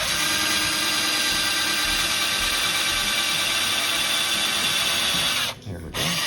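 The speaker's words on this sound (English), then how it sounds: "I'm just going to drill a hole in here." A power drill boring a hole through very hard wood while fixing a footstool, a loud continuous high whine held steady for over five seconds, then briefly stopping and restarting near the end.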